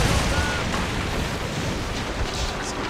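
Ship cannon fire in Assassin's Creed Rogue during a naval battle: dense, continuous booming and rumbling blasts layered together, loud and chaotic throughout with no clear gaps.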